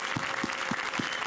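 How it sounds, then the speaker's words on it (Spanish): Brief, dense studio-audience applause on a Puerto Rican TV comedy show, a steady wash of clapping with faint regular low thumps beneath it. "Un aplauso para Huizo."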